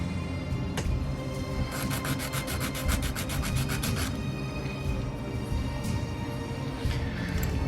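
Small file smoothing a wooden part for a 1:200 scale HMS Victory ship model, close steady rasping strokes with a burst of rapid repeated scrapes partway through.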